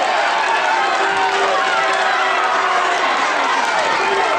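Wrestling crowd at a 1987 UK ladder match roaring and cheering in a dense, steady wash of noise from a packed hall, with a commentator talking over it.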